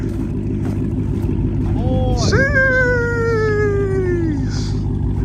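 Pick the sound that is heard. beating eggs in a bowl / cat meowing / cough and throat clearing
cat meowing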